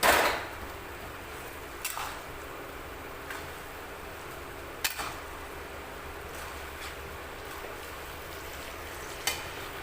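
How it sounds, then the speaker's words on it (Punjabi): Mutton keema stirred in a pan of oil over a low flame, giving a steady faint sizzle with a few soft scraping taps of the spoon at intervals, close and without talk. "ਕੀਮਾ ਹਮੇਸ਼ਾ ਗੈਸ ਨੂੰ ਸਿਮ ਕਰਕੇ ਮਿਕਸ ਕਰ ਲਓ"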